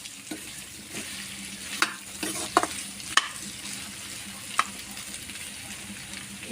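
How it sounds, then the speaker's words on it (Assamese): Food frying in a pan while being stirred, with a low continuous sizzle broken by several clear scraping and tapping strokes at irregular intervals, close and soft. "লৰাই থাকিব।"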